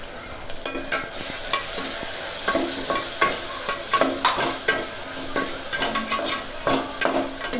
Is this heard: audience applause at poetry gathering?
no